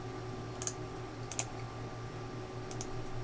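Code being typed on a computer keyboard: a few soft clusters of key clicks in short bursts, fairly quiet over a low steady hum, with no one talking.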